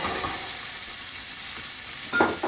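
A medium-diced onion hisses and sizzles in hot oil in a pan. The frying noise is steady and close, and a couple of stirring scrapes come near the end. No one speaks.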